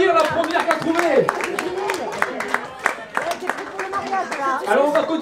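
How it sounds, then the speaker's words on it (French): Wedding reception guests applauding a game winner at an evening party, lively clapping from a nearby crowd under loud overlapping chatter and a speaking voice. "Bon, on va l'applaudir, la première qui a trouvé!"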